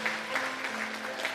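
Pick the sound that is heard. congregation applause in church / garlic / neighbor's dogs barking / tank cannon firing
congregation applause in church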